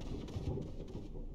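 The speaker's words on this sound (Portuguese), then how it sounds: "Trovão aí." Low thunder rumbles in the video game Resident Evil HD Remaster, a deep, continuous roll mixed with rain-like hiss and no talking.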